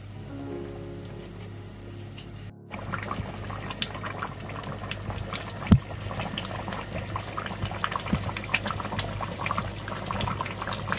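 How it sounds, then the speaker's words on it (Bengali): Country chicken and new potato curry simmering in broth, a steady bubbling boil with soft liquid gurgles and small pops that run unbroken and fairly close, with no voices. "ঝোলের পানি দিয়ে দিলাম। মাংস হওয়া পর্যন্ত অপেক্ষা করতে হবে।"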